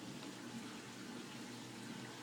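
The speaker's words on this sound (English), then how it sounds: "So you pour that in through the nozzle." Liquid poured through a nozzle into a perfume bottle for a homemade lava lamp gives a faint, steady watery trickle that runs without pause for the whole stretch.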